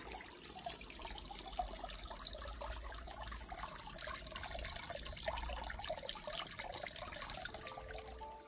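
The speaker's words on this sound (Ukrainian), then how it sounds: "Такий водоспад." A small waterfall trickles steadily into a garden pond, a soft continuous splashing and babbling of water with no voices, quiet and close.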